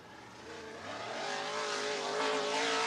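A dirt-track race car engine at I-75 Raceway in Niota, Tennessee drones steadily and builds louder as the car rolls down the hill, with no voices over it.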